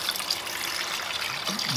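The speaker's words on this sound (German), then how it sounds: "gieße 1 Liter Wasser dazu" Water splashes and trickles steadily into a pot of quartered potatoes, a continuous close pour that runs for under two seconds without pause.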